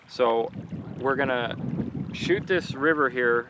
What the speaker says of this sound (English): Sorry about the wind. We're in New Mexico.